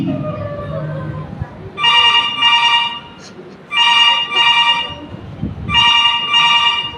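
A telephone rings on stage during a Hindi play in three paired bursts with pauses between, loud and close, following a stretch of talk at the start.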